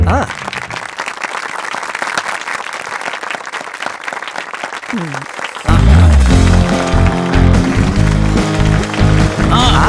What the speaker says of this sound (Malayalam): കൈയടിച്ചേ, എല്ലാവരും കൈയടിക്കേ.